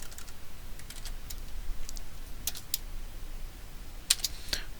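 Scattered keystrokes on a computer keyboard as a command is typed, a few quick clicks and short bursts, fairly faint over a low steady room hum.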